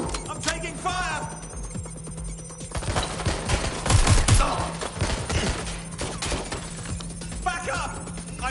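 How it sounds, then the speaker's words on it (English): Rapid gunfire bursts and loud shots in the video game Watch Dogs Legion, dense and continuous over a game soundtrack, with a voice calling out between volleys. "I'm taking fire!"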